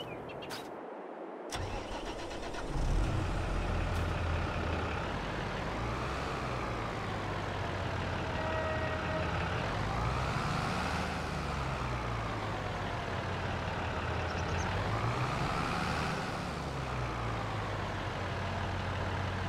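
A tractor engine runs steadily through a test drive after a repair, a continuous mid-pitched drone rising and falling in pitch as it revs and settles, fairly close, preceded by a brief click and a start-up surge.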